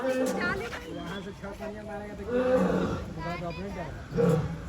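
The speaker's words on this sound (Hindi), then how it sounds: "सबसे खतरनाक से मिलवा रहे गाइस, शेर से गाइस। तो आपको आवाज सुनवाते हैं" A lion at Patna zoo gives deep, drawn-out roars and grunts in several bursts, heard fairly close and mixed with background voices of visitors.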